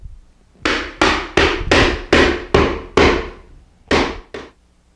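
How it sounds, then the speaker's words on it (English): A wooden seat panel is driven into place with a hammer striking through a sheet of plywood: nine loud, evenly spaced heavy thuds with short gaps, a pause before the last two, no talk. "Grab a piece of plywood and pound this panel in."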